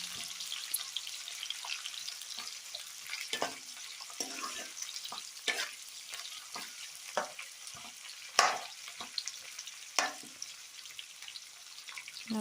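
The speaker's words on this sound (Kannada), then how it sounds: "ಈರುಳ್ಳಿ ಹಾಕಿ ಅದು ಸ್ವಲ್ಪ ಬ್ರೌನಿಷ್ ಬರೋವರೆಗೂ ನಾವು ಫ್ರೈ ಮಾಡ್ಕೊತಾ ಇರಬೇಕು" Onions fry in oil with a continuous close crackle, punctuated by scattered clicks and a few sharper pops and scrapes as they are stirred, no talking heard.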